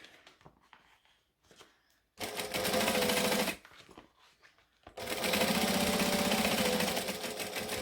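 A home sewing machine stitching fabric, with a swash needle-and-anchor project on the table, runs in two loud, close bursts separated by quiet handling, its rapid needle clatter steady throughout each run.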